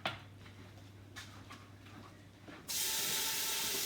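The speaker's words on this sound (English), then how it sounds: "Can you hear the sizzle?" A quiet kitchen hum gives way to a sudden loud, steady sizzle as onions hit a hot pan, crackling on without talk.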